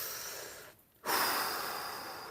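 Deep breathing during a side split stretch, a steady exhale with a brief pause and then a fuller inhale, close and clear with no talking.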